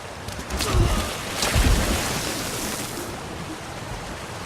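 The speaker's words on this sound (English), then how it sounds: "Come, here, behind the waterfall." A waterfall in the game Elder Scrolls Online pours as a dense, steady rushing noise, with two heavier low surges early on before it settles into an even roar, near and alone.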